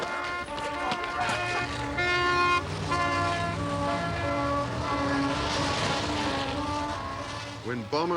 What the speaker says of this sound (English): When bomber crews scramble, it certainly sounds like the end of the world.